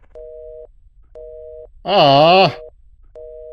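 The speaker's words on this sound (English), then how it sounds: "You heard the busy tone." A telephone busy tone from the video game Love Eternal repeats as evenly spaced steady beeps, loud and close, interrupted once by a person's drawn-out vocal groan before the beeping resumes.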